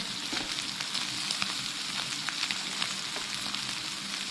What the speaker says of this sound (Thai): อันนี้ก็กำลังเดือดจ้า